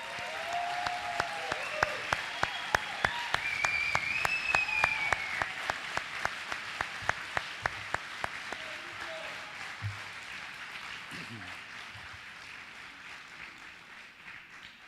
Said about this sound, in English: How about one more round of applause for our graduates?